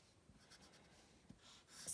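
Pen writing on paper while an amount in dollars and cents is set down for a money lesson: soft, faint scratching strokes in short bursts, close and quiet, with no talk over it.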